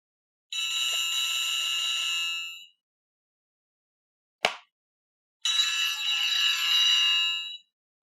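A telephone rings in two long, bright electronic bursts, separated by a short sharp click, each ring loud and close in an otherwise silent room.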